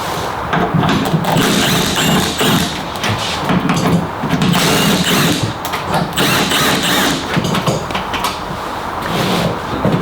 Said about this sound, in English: It's just 3 of these 10mm bolts. We can go ahead and remove those too.